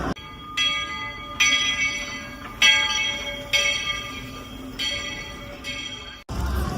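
A train's bell rings in a steady series of loud, evenly spaced strikes with a ringing tone between them, then cuts off abruptly near the end, at Disney World.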